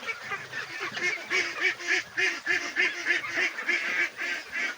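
A flock of domestic ducks about two months old quacks and honks continuously while feeding on banana and rice bran, with loud, close, rhythmic calls overlapping throughout.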